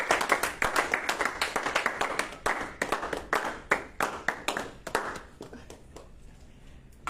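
A church congregation at a Wednesday intercession prayer meeting claps in distinct rhythmic bursts, close and fairly loud, then the claps slow and grow sparse until only scattered final claps remain.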